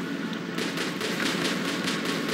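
Rapid automatic gunfire from robot weapons in the PC video game War Robots, a steady rattling run of shots that begins after a brief lull and continues at a loud, even rhythm over constant battle noise.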